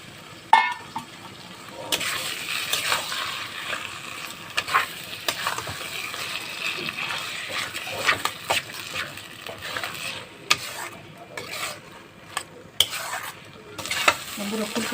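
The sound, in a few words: stirring and frying cauliflower leaf paste in a pan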